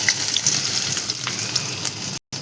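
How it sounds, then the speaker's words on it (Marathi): Onion frying in heated oil in a kadhai on a gas stove, a loud, close crackling sizzle that runs continuously and then cuts out briefly near the end. "तर मी सगळ्याच्या अगोदर इथं कांदा टाकून घेतलेला आहे"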